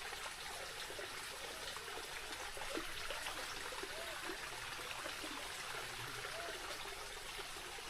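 Water in a mountain stream flowing and trickling over rocks on Mt. Malinao, a steady, soft outdoor wash of splashing with no voices.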